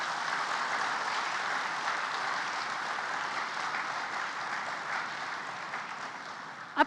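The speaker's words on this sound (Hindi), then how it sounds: "तो इस सब सैनिक परिवार के लिए हम एक बार जोरदार तालियां दे देंगे।" Steady sustained audience applause honoring soldiers' families at an event, a dense even roar of many hands clapping throughout with no talk, ending in a sharp thump.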